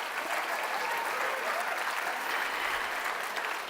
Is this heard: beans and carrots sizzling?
no